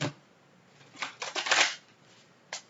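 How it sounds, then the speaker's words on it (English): A deck of tarot cards riffled and shuffled in a few quick bursts, close by and fairly soft, followed by a short snap of cards. "That was a good shuffle."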